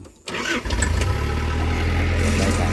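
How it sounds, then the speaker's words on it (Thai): A machine engine, likely a vehicle engine used to drive a feed grinder through a belt or chain, cranks and catches, then settles into a loud, steady low idle with mechanical clatter. "ติดเครื่องกัน"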